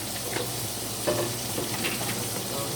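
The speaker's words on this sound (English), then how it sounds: "Use a wooden spoon. And stir those up with the black pepper on them." A wooden spoon stirs food seasoned with black pepper in a pot over sizzling heat, a steady frying hiss with soft scraping strokes and occasional light knocks, close and continuous.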